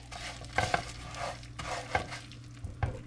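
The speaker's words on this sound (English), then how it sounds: "we're gonna give this a really, really good toasting" Food toasting and browning in a pan on the stove, heard as a soft steady sizzle with a few sharp stirring scrapes and utensil knocks spaced through it, close and fairly quiet.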